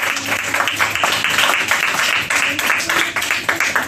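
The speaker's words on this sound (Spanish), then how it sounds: "Vamos a dar un fuerte aplauso a nuestro Dios y Salvador." A church congregation gives a loud, sustained round of applause during a Father's Day service, dense clapping filling the moment with some voices mixed in.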